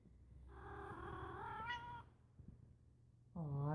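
A rescued stray cat gives two drawn-out meows, close and fairly loud, separated by a short quiet gap with no talking.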